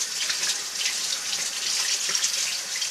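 Hands are washed under a running tap, a steady, fairly close rush of water into a sink with light splashing variations across the whole stretch and no voices.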